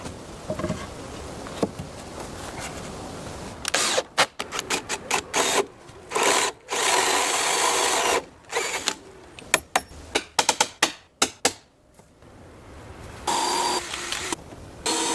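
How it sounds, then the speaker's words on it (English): Ratchet and wrench tightening bolts on the timber beams of a wooden treehouse in a forest, heard as bursts of rapid ratcheting clicks in short, uneven runs, close up and without talk. "I used a ratchet and wrench to tighten the bolts so that the beams wouldn't move even slightly."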